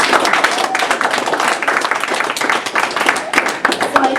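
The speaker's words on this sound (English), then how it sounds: "Give yourself a round of applause." Participants at a talk or workshop applaud themselves, with sharp, fairly close hand claps forming a lively, uneven patter that continues throughout, with a voice faintly audible beneath it.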